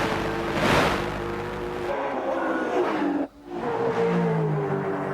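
Touring cars racing over the top of the hill at Mount Panorama, Bathurst, engines screaming at high revs as they pass close by, with a brief dip in the roar before another car sweeps through.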